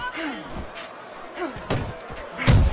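Left punch landing in the boxing video game Fight Night Champion, a few sharp thuds and slaps of gloves striking over a faint crowd, with the last impact loudest, under French commentary.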